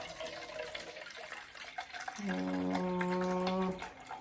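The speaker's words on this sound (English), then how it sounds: "I'm gonna pour it in this can so that I can get the rest of the crushed tomatoes out" Beef broth is poured into a tin can that still holds some leftover crushed tomatoes. A quiet trickle gives way to a brief rising, ringing gurgle as the can fills, then tapers off.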